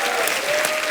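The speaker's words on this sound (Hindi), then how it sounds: "जोरदार तालियां हो जाएं आपके लिए" Brief, loud burst of studio audience applause on a Hindi comedy show, dense continuous clapping.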